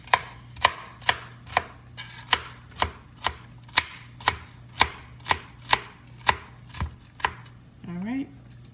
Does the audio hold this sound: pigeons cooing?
no